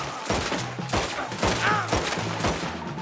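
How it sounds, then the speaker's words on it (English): Repeated gunfire during a shootout with enemies in the Red Dead Redemption 2 video game, rapid bursts of shots mixed with game music and effects, steady and dense throughout. "I'm shooting people."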